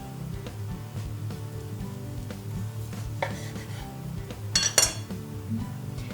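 Knife cutting through homemade oat seitan on a board, soft repeated slicing taps with a couple of sharper clinks near the end, close and quiet, no talking.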